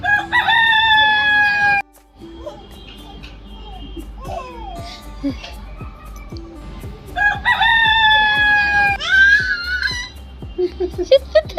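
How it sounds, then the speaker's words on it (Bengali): A rooster crows loudly twice, each long call rising and holding, with clucking, a voice and household chatter between the crows. "মোরগ ডাকার আওয়াজটা শুনলেই"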